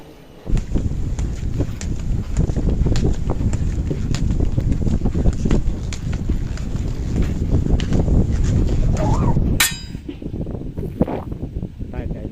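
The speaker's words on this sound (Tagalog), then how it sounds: "Lakas ng hangin." Steady wind buffets the microphone with a constant rushing roar for most of the clip on an island, then eases somewhat near the end.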